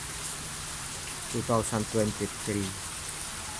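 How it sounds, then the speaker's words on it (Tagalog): Steady rain falls outdoors on a cold, windy day, making a constant close hiss throughout while a voice speaks briefly over it. "Maulan. Ito sa amin."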